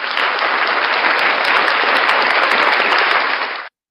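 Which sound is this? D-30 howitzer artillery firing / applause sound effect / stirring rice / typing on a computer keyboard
applause sound effect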